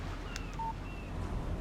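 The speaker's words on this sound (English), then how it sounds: "Text message from Barry." A short electronic alert tone from a mobile phone announcing a text message in the Alan Wake video game, a brief clean beep standing out over a soft, steady background hum.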